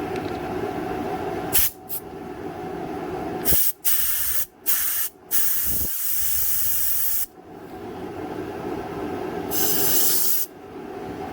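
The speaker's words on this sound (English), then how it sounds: "Let me get the compressed air, I'll blast that out real quick." Compressed air blasts out a part from a junked generator in loud, close bursts of rushing hiss. Several are long and some are short, separated by brief pauses.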